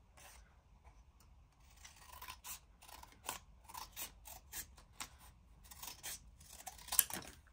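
Scissors snip through a strip of paper with a rapid series of quiet, close crisp cuts that grow more regular toward the end, with no talk.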